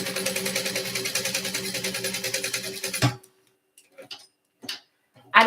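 A sewing machine runs a steady, rapid, rhythmic stitch along the edge of a hexagon-patterned tote bag for about three seconds, then stops abruptly. A few faint, scattered handling sounds follow in near silence.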